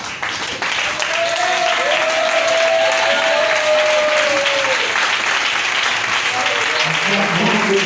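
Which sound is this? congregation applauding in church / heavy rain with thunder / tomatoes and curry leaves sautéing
congregation applauding in church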